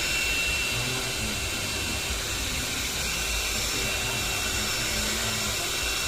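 A Remington hair dryer blowing steadily, giving a continuous airy whoosh with a broad hiss that holds even and unbroken throughout.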